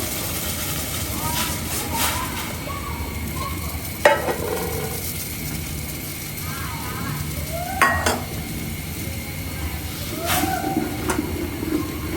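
Flour is stirred into boiling salted water in a pot to make dough for milk puli pitha. Soft scraping and stirring clinks sit beside a gentle bubbling, with a person talking throughout.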